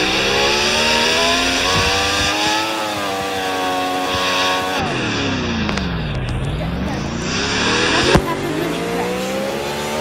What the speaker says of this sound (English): This is the 500 Robux car.